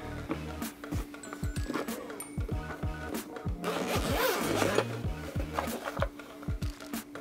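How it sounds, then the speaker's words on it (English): A zipper on a GoPro Hero 9 Black case being pulled in repeated short rasping strokes, close up, with faint handling noise around it. "Got a nice little zipper, it looks like."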